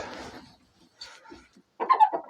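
Young hens in a coop give a few short bursts of clucking and squawks separated by quiet gaps, close by and moderately loud, with no one speaking.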